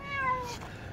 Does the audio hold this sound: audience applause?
no